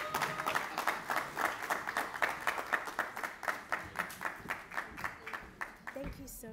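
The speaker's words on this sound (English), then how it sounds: "So please, let's give her a huge round of applause." An audience at a Congolese Independence Day celebration applauds a speaker in rhythmic, evenly paced claps, moderately close and fading toward the end, with voices mixed in.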